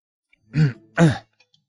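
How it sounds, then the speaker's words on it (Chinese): Two short, deliberate coughs in quick succession, close and clear, with a brief pause between them. "故意咳嗽了2声"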